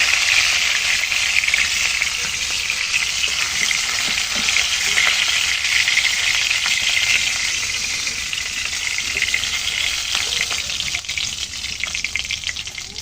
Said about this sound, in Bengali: বাকি মাছও ভেজে নিচ্ছি